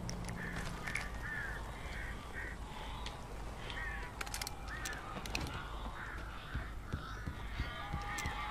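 Birds in Alan Wake Remastered caw and squawk repeatedly over a continuous ambient game rumble, calls overlapping in irregular bursts, moderately close.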